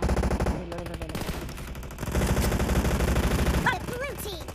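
M4 rifle fire in PUBG Mobile, dense rapid automatic bursts that run almost continuously and loudly over busy game sound, with other weapons firing in the mix.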